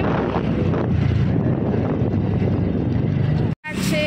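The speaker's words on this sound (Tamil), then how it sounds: "பயங்கரமாக காற்றடிக்குது" Strong wind roars and buffets the microphone continuously, a dense rushing noise that cuts out abruptly near the end before resuming.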